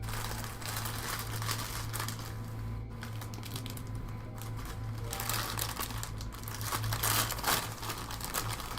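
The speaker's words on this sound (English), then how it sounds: "Sorry about the crinkle." Steady crinkling of plastic or paper close to the microphone, a continuous rustle that swells and fades across the stretch, alone with no talking.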